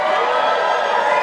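A rowdy crowd in Cornell's Bailey Hall cheers and shouts during Cornelliana Night 2013, a steady, loud wash of voices and whoops filling the hall without a break.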